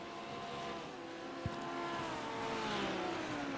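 A Porsche GT3 race car in sim racing, heard onboard at St. Petersburg: a loud, constant engine drone rising and falling in pitch through gear changes, with one brief knock partway through.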